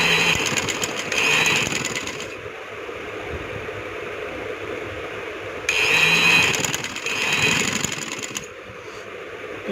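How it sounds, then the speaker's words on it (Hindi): Electric sewing machine stitching along the folded edge of trouser fabric, two longer bursts of steady whirring motor hum separated by a quieter stretch, close and fairly loud. "ऊपर से किनारे की सिलाई लगाते जाना है"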